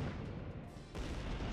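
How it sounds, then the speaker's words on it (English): Repeated booming bursts from a series of explosions in the video game Code: Realize, heard as a dense, continuous low rumble that surges louder partway through, with no voices. "Suddenly, we hear an explosion."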